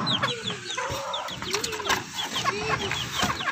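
A brooding mother hen clucks repeatedly at close range, with chirpy calls and a few sharp higher notes scattered throughout, fairly loud against a quiet yard.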